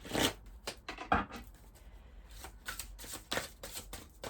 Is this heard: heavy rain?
no